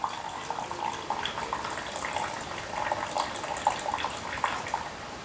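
Strained whitish almond water being poured into a mixture in a home kitchen, a soft continuous trickle and splash of liquid, fairly close and quiet, with no talking.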